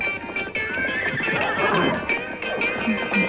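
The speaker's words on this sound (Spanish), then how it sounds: "Y escucha, alguien está montando a caballo" Hooves of a ridden horse clip-clop steadily through a busy park scene at night, loud and continuous, with a whinny tagged among the mixed background sounds.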